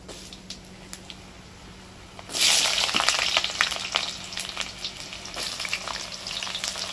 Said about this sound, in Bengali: আলুগুলোকে না লাল করে ভাজতে হবে একদম